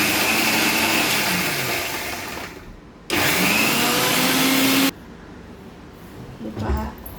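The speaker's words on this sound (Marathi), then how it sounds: "आता हे मी मिक्सरला वाटणार आहे बिन पाणी न घालता" Kitchen mixer grinder whirring loudly as it dry-grinds ingredients for aloo vadi with no water added, running in two bursts separated by a short pause, then a quieter handling noise at the end.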